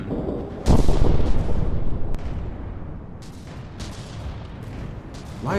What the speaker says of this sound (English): Oh, there goes that cannon.